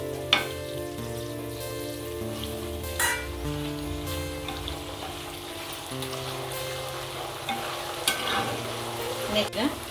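Curry leaves fry in hot oil for avalakki chivda, a steady close sizzle with repeated stirring scrapes and a few sharp clinks against the pan, and no one speaking.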